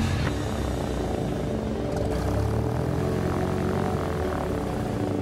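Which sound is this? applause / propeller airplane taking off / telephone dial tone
propeller airplane taking off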